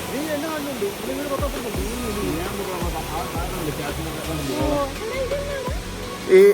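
St. Nectan's Waterfall pours in a steady, full rushing wash close by, with a voice or echoing calls rising over the water throughout.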